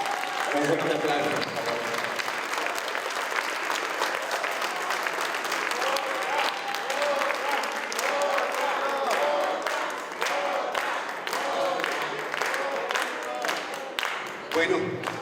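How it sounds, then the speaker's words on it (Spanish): An audience at a talk on Indigenous peoples in big cities breaks into loud, sustained applause that holds steady throughout, with some voices and murmurs running underneath and a brief dip near the end. "Un fuerte aplauso."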